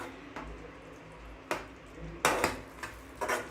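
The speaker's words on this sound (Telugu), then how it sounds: "ఈ విధంగా తీగ పాకం వచ్చే వరకు మనం ఫ్రై చేసుకోవాలి" A spoon stirs carrot and rava through thickening sugar syrup in a pan, knocking and scraping against the metal in a few distinct, uneven clanks over a soft low bubbling.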